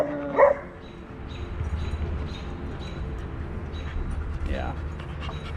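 A dog barks once near the start, a sharp close yelp, then a faint whimper later while a person talks over steady background noise at a dog park.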